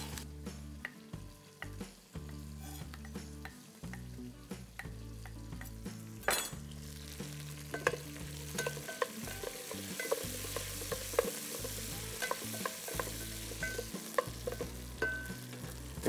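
Drumstick pieces, onion and radish fry in hot oil for a Tamil kara kulambu, with a steady sizzle and repeated scrapes and clinks as they are stirred in the pan throughout, close up and with no talking.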